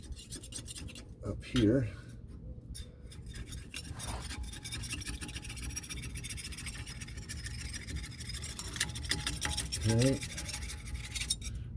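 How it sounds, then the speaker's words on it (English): Someone scrapes an old gasket off a differential cover during a resealing job, the steady rasping scrape running close and loud through the clip, with a couple of short squeaky strokes standing out and a voice speaking briefly. "I'm going to scrape this gasket off"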